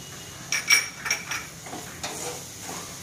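Pineapple pieces and pulp tipped into a pan of sheera, several clinks and scrapes of a utensil against metal, then softer wet stirring sounds, close and without talk.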